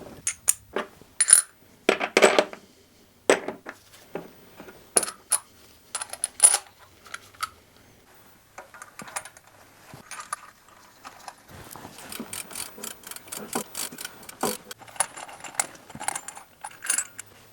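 A kit drives a camshaft oil seal into a Renault Twingo D7F engine, giving sharp metallic taps and clinks in irregular bursts, then a denser run of light clicking toward the end.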